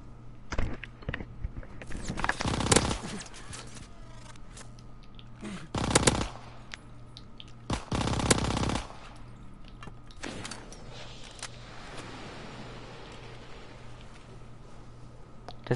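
Gunfire in a video game: several loud bursts of automatic fire at intervals, with quieter mechanical noises and background ambience in between.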